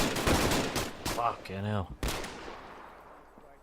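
Sharp gunshots crack through a military video game firefight, several loud bursts close by, with a player swearing between the shots.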